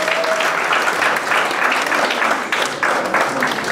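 Wedding guests applauding the master of ceremonies as he is introduced, a loud, sustained burst of clapping from a full room that swells and ebbs in waves for several seconds, with faint voices beneath.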